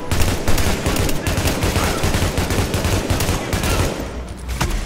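Sustained bursts of automatic gunfire fill a firefight in the video game The Division, loud and dense throughout with barely a break.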